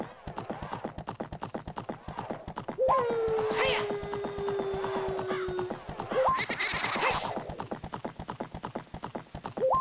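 A horse gallops in Zelda: Ocarina of Time with a fast, steady clip-clop of hooves throughout, interrupted by gliding game tones and bursts of whinnying.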